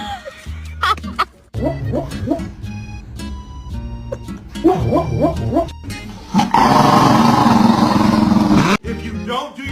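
A dog barks in several quick bursts and volleys, close and loud, with a brief growl; a voice speaks between them and a loud rumbling engine-like noise takes over near the end.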